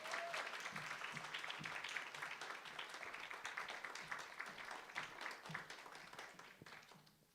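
A high school worship congregation at Immanuel Church claps to welcome a newly appointed evangelist, a steady, fairly faint patter of many hands that fades slightly at the end.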